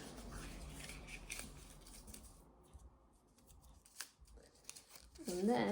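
Scissors snipping through material to cut out a triangle for a costume, a run of close, crisp cuts, with a brief voice near the end.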